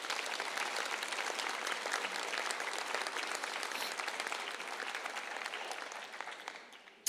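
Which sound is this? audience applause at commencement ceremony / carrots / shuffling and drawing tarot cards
audience applause at commencement ceremony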